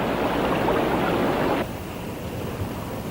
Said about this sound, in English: This tunnel at McGraw-Hill Small Park splashes you, but you don't get wet.